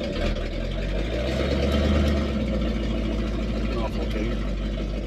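A 1979 Chevrolet C20 square-body truck with a 454 engine idles low and rough, a steady close rumble throughout with a slight swell near the two-second mark.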